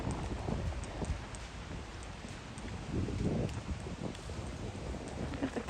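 Wind gusting outdoors in the Royal Botanic Gardens, Melbourne, on a chilly July day, a continuous low rushing and buffeting that swells and eases throughout.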